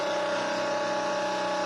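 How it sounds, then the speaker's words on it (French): Red Bull Honda Formula 1 car engine revving hard as it pulls away during practice at the Mexican Grand Prix, a loud sustained high-pitched engine whine with steady tone throughout the short burst. "le moteur Honda. Beaucoup plus de régime."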